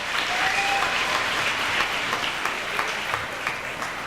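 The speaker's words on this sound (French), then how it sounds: "On l'applaudit très fort." An audience at a 1994 barbecue crowning ceremony applauds loudly in a dense, sustained burst of clapping that carries steadily to the end.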